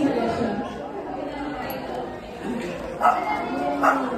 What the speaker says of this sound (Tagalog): Ay, aso pala yun. Kala ko pusa.